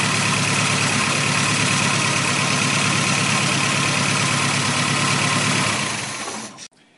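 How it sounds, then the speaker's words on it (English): An MGB engine idles at around 800 rpm, a loud, steady, close-up droning hum that runs evenly for several seconds before cutting off near the end. "we would then just adjust the tick over to bring it down to a nice tick over of around about 800"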